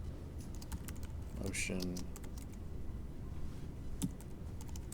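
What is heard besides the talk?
typing a title on a computer keyboard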